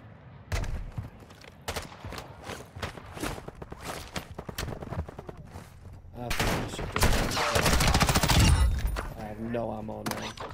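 Gunfire in the Call of Duty DMZ video game at Taraq: rapid sharp shots crack out in scattered bursts, building into a denser, louder volley later on.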